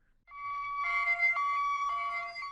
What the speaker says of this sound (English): The British siren,